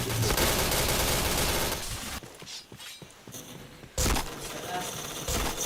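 Rapid sustained gunfire is spammed in the Point Blank shooter game, a dense, loud, continuous barrage that briefly drops away before firing resumes.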